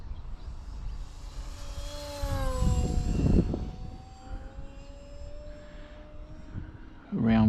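A Durafly Me-163 V2 950mm RC model plane cruises past at about half throttle, its whining motor rising and falling in pitch as it flies by, with a brief louder swell midway.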